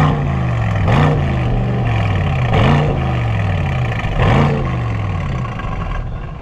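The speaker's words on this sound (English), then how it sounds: "let's listen to the exhaust of the Aston Martin DBX 707." An Aston Martin DBX 707's exhaust revs hard three times in windy open air, each blip rising and falling over a steady engine drone, loud and close with no talking.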